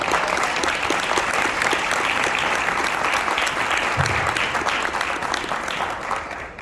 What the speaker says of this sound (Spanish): les pediría un aplauso para todas ellas